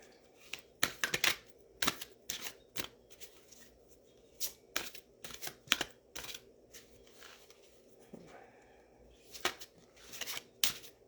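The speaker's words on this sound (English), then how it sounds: "shuffle the cards and see what comes through" Tarot cards shuffled by hand in a quiet room, a run of crisp riffling and flicking bursts in irregular clusters, close and alone with no talk.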